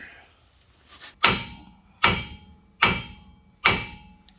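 Four sharp metallic hammer strikes on a 2002 Dodge Ram 2500 wheel hub ring out at a steady pace, each with a brief ringing decay, after a couple of softer taps.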